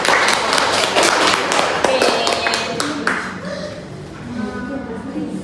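A classroom of students applauds a fellow student in a burst of clapping that fades after a few seconds, followed by a teacher speaking.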